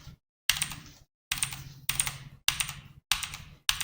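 Computer keyboard being typed on in quick bursts, about six clusters of sharp clacking keystrokes separated by short silences, close and fairly loud with no talking.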